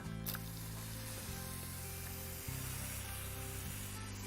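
A garden hose sprays water onto soil in a toy planter, a steady close hiss of running water that carries on throughout with no talking.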